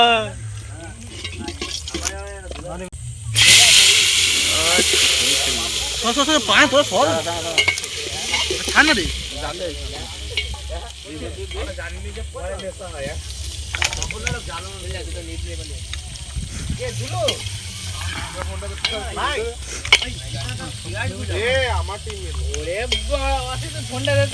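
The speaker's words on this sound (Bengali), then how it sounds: "ফার্স্ট টাইম এরকম কড়াই রান্না হচ্ছে চিকেন" Chicken fries loudly in hot oil with garam masala in a kadai at an outdoor village picnic, a strong continuous sizzle with a sharp surge early on and stirring scrapes, while people talk throughout.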